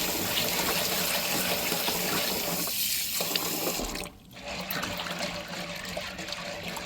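Dry green split peas being rinsed under running tap water in a sink, a steady close splashing stream that carries on throughout with a brief dip partway through.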